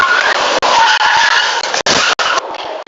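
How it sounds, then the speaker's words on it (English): Car tires screech on a Milwaukee street just before a violent hit-and-run crash, a loud, broadband skidding sound lasting almost three seconds with a few brief sharp breaks. "You could hear the tire screech"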